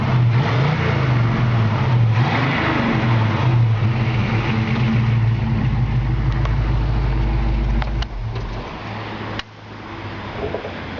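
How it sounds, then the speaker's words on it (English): A 1968 Camaro convertible's small engine revs with an aggressive tone, loud and close, rising and falling through several throttle blips over a rumbling idle. "Really, for being a small engine, it's still got a nice aggressive tone to it"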